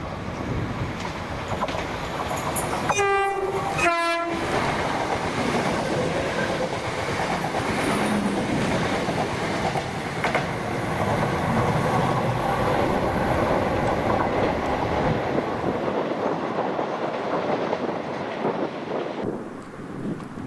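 ScotRail Class 318 and Class 320 electric multiple units passing at Bowling: a sustained rolling rumble with clickety-clack and wind buffeting on the microphone, a brief whine and clicks early on, and the sound tailing off near the end.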